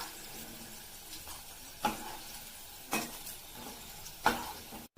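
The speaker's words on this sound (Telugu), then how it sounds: "ఇప్పుడు కొంచెం ఆయిల్ వేసుకొని ఇందులో పల్లీలు కొంచెం రెడ్గా అవనిద్దాము" Peanuts frying in oil in a pan give a faint, steady sizzle, with a few louder clinks and scrapes from stirring at irregular intervals.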